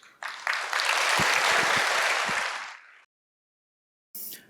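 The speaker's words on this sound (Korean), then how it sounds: "큰 박수로 환영하겠습니다" Church audience applause swells quickly to a full, loud round to welcome a speaker, holds for a few seconds, then fades out into silence before a brief burst of sound returns.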